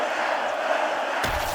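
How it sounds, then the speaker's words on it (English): A video game crowd in UFC 6 roars and cheers between rounds of a fight, a dense, steady wash of many voices at even loudness with a sharp change in texture near the end. "So the crowd voicing its appreciation after that round."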